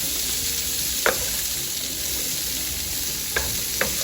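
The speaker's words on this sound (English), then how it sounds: "I'm just going to mix all this up and get a nice coating of butter on everything." Butter and garlic powder sizzling steadily in a pan at close range, with a few sharp scrapes of stirring cutting through the continuous frying hiss; no voices.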